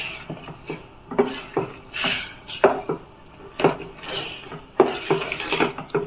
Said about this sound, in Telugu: ఇప్పుడు బియ్యం పిండిని వేసుకొని మంచిగా గట్టిపడేంత వరకు కలుపుకోవాలి.